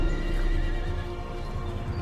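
A horse named Bucephalus whinnies in an Age of Empires II cutscene, a loud, close neigh sustained through about two seconds over a dense rumbling background.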